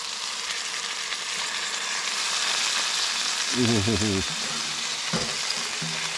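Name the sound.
meat searing in hot oil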